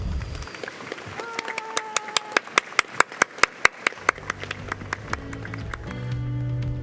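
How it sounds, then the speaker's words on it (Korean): At the opening ceremony of a 2020 Korean defense industry exhibition, a run of about fifteen sharp, evenly spaced claps rings out over faint background chatter, followed by rising ceremonial music and tones. "큰 박수 부탁드리겠습니다."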